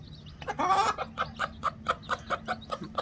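A Kadaknath hen clucks steadily while feeding her chicks, a close run of about a dozen short, evenly spaced clucks after a louder, harsher burst near the start.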